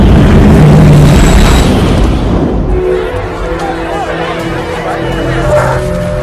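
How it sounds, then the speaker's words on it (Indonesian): A loud, roaring film bomb explosion at the White House rumbles and crackles, then decays into a lower, sustained rumble with debris-like noise. "ledakan yang sangat besar langsung mengguncang satu Gedung Putih"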